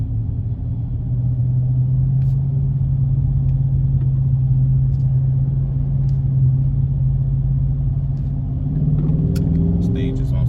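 A Dodge RT car drives through heavy city traffic, with a steady low engine rumble and road noise throughout and a brief rise in engine pitch near the end.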